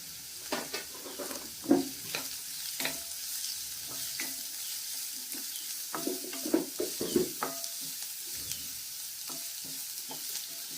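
Chopped carrots and beans are stir-fried in a pan for Top Ramen noodles, with a soft sizzle broken by repeated scraping strokes of a spatula, some louder clacks against the pan, close and moderately quiet.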